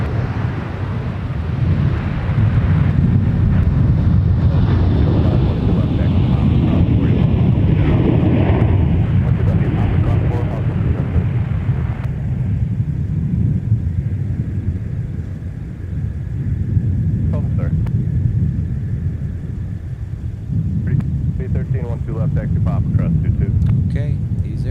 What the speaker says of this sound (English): Sun Country now is on the roll to Los Angeles